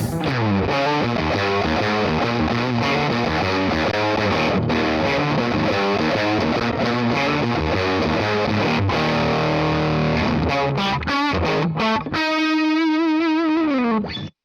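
Electric guitar played through an overdriven Max amp model from IK Multimedia's Tone Partner collection, with a thick, fuzz-like distortion. Loud, continuous chords are strummed in a steady rhythm, then a final ringing note sustains before cutting off.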